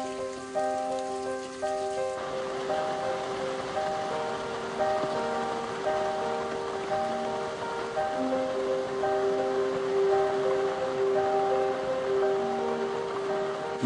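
Steady rain falls on a wet surface in a Miao village in China, a dense, even hiss that fills the whole stretch, with a held melodic tone running above it.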